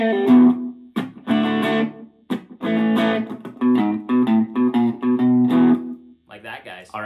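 An electric guitar with distortion plays a riff, chopped chord stabs and short bluesy fills in a stop-start rhythm, loud and close.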